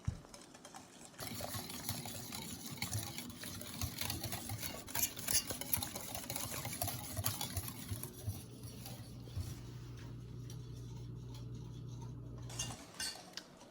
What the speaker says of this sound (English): We're just gonna do a little whisk